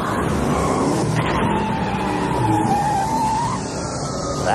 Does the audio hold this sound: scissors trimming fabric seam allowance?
no